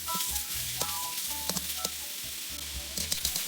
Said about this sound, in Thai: แล้วก็ใส่หมูลงไปค่ะ ผัดให้หมูหมูเริ่มสุกเลยนะคะ